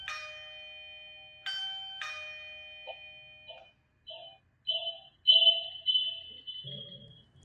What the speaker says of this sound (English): I'm just going to show you how that works on camera after I ring this doorbell